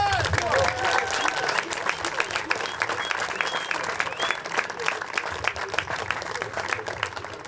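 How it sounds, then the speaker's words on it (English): Sustained applause and clapping from a crowd honouring volunteers at a blind football cup, dense and steady throughout with no break. "big applause also to the volunteers"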